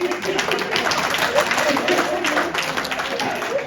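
Audience members at a Banarasi village kavi sammelan poetry recital clap in a dense, steady patter that runs throughout, with a voice speaking over it.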